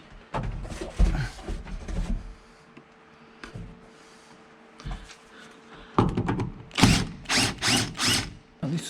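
Bursts of power-drill whirring and ratcheting clicks while screws are backed out of the interior of a 1978 Pontiac Trans Am, with short mechanical runs separated by pauses and louder repeated pulses toward the end.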